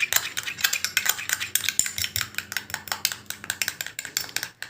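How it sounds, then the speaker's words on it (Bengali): A spoon stirs a thick okra gel remedy in a bowl, giving quick repeated clinks and scrapes in a steady rhythm, close up and fairly loud, with no talking. "ভালো করে চামচ দিয়ে কিন্তু মিশিয়ে নিয়েছি"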